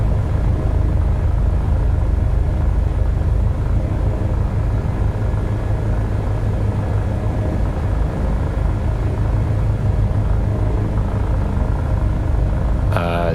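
An HPG H145 helicopter in Microsoft Flight Simulator 2020 on a medical emergency mission, a steady loud low rumbling drone of engine and rotor throughout with no breaks.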